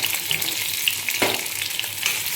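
Sliced onions frying in oil in a kadai, a continuous bright crackling sizzle with occasional sharper pops, close and fairly loud, with no voices.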